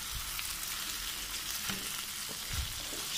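Tofu sisig with mayonnaise mixed in a hot pan, a steady close sizzle of frying running throughout with soft stirring scrapes and taps beneath it.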